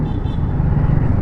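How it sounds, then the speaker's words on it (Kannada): Exhaust of a 2025 TVS Apache RR310 race-style motorcycle, a loud, steady low rumble running close by without pause for the whole moment, with no speech over it. "ಎಕ್ಸಾಸ್ಟ್ ಸೌಂಡ್ ಈ ಥರ ಕೇಳಿಸುತ್ತೆ"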